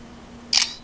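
A single short shutter click from a smartphone camera, a Galaxy Nexus or BlackBerry Z10, close and crisp after a quiet moment, with no talk over it.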